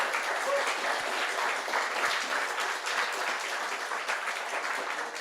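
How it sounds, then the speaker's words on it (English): Conference attendees give a round of applause for the discussion participants at the end of a panel, a sustained, evenly textured wash of many hands clapping. "I would like to ask for your round of applause for our discussion participants"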